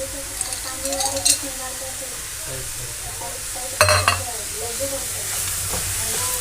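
Carrot halwa with almonds being stirred in a sizzling pan, a spoon scraping and clanking against the metal in bursts over a steady frying hiss, with a faint voice in the background.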